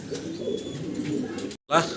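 Pigeons coo softly at a pigeon farm in Bangladesh beneath close, ongoing talk, with a brief pause near the end.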